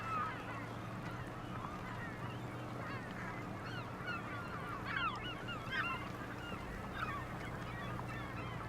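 Seagulls calling in the farming video game Farming Simulator 25: repeated squawking cries over a steady low ambient hum, spread across the whole stretch at a moderate, even level.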